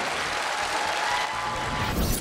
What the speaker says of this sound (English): A big applause for the winner, Tasia.